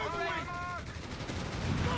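Close gunfire from Company of Heroes 3 rattles in a quick burst of shots during a Churchill tank battle, with a voice in the game sounding over the start.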